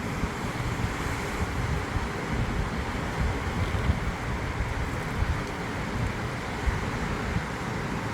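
Strong gusts of storm Nils roar through Bordeaux, a loud, continuous rushing wind with buffeting against the microphone and no pauses.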